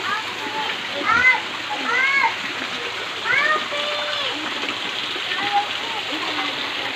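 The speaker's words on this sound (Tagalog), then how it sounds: "Waterfall." A waterfall at a zoo makes a steady wash of falling water in the background, while children and adults talk and call out over it.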